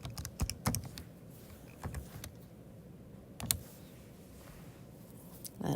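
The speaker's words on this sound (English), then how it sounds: "let's type this into our calculator." Calculator keys are pressed in a quick run of small, close, crisp taps, with a few scattered later presses over a low room hum. No one speaks.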